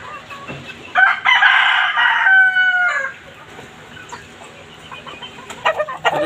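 Chickens on a poultry farm, with a loud rooster crow stretching across the middle of the stretch and hen clucks and bird calls scattered before and after, close by.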